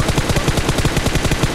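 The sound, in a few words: gunfire in a shooting video game, a headshot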